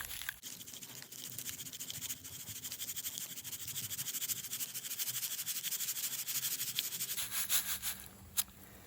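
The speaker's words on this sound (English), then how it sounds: "everything that's over 1/4 inch is up here, and I've sifted the small stuff down there" Gravel shaken through a 1/4-inch screen sifter into a pan below while prospecting for micro-gems in Kansas: a steady gritty rattling and rubbing, close and fairly loud, easing off near the end.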